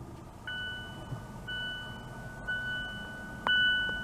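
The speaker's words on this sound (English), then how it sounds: "Now in accessory mode, we should get the seat belt chime." Seat belt warning chime in a 2014-2018 Mazda 6 with the car in accessory mode: a repeating electronic ding sounding about once per second, clear and close inside the cabin, with no talking.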